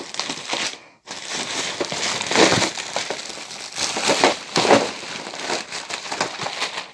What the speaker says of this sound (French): je vide le sac, comme ça ce sera mieux pour vous présenter